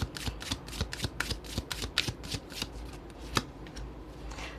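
Tarot cards shuffled by hand in a quiet room, a rapid run of crisp riffling bursts and soft flicks at close range, with no voices.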